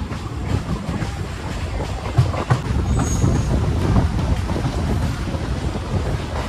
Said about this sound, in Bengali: আর আমাদের ট্রেন এসে পৌঁছালো হচ্ছে লক্ষ্মীকান্তপুর রেলওয়ে স্টেশন